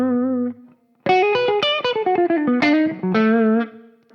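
Joe Bonamassa Les Paul electric guitar on the middle pickup setting with both pickups on, playing a sustained note, a pause, then a rising run of distinct picked notes ending in long ringing tones; loud, clean and close, with no talking.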